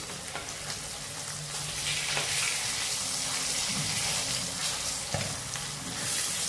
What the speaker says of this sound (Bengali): মাছটাকে একটু উল্টে পাল্টে ভেজে নেব।